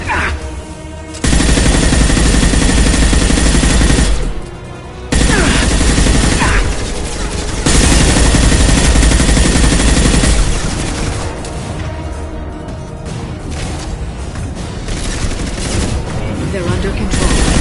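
Loud, dense gunfire from the video game Mass Effect Legendary, rapid automatic bursts and booming shots pouring out almost nonstop with one brief lull, while voices speak beneath the chaos.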